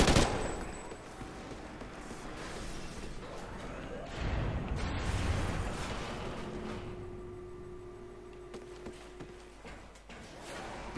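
Honey Badger rifle fire in Call of Duty: Ghosts, rapid bursts crackling amid busy battle noise that is loudest early and thins toward the end, with no talking over it.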